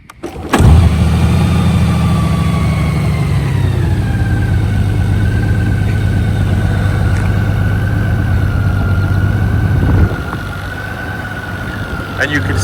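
A new motorcycle engine starts with a sharp catch and then idles steadily and loudly close by, its smooth hum dropping slightly in level toward the end.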